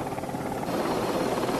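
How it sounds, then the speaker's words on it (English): A Royal Navy 820 Squadron helicopter flying, its rotor and engine giving a continuous droning, thrumming roar at steady loudness, with no voices. "The helicopters of 820 Squadron are poised to deal with any potential submarine threat"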